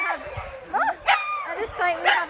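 Dogs at a large shelter housing over 1,200 dogs yip, whine and bark in short bursts, several close calls rising and falling in pitch, with a person talking in the background.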